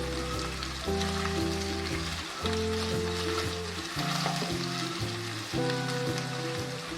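Chicken steak fries golden brown in a hot pan, a steady close sizzle with crackling spatters and occasional stirring, no voices over it.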